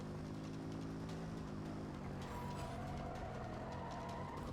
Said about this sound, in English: Oh, here comes the helicopter.